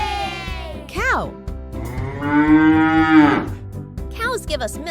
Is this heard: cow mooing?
yes